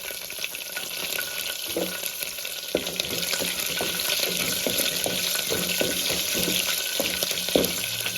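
Curry leaves and green chillies sizzle in hot tempering oil over a slow flame for millet upma, a steady close crackling hiss with small pops and occasional stirring, no talking.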